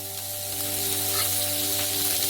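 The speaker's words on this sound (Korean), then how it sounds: "양파를 볶아주세요." Onions sautéing in olive oil in a frying pan on a stove give a steady, close sizzle with a constant low hum underneath, running evenly throughout with no talking.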